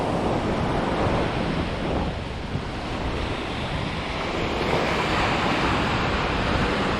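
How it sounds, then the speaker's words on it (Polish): Strong sea waves break and surge continuously along a Baltic amber-fishing shore, a loud, dense roar of surf mixed with wind buffeting the microphone, with no voices. "Ale fale są porządne."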